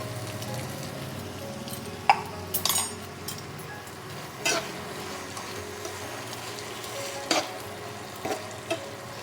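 Chhena mixture with a little pepper powder being stirred in a frying pan, a low steady sizzle under scattered clinks and scrapes of a spoon against the pan, close and fairly quiet throughout.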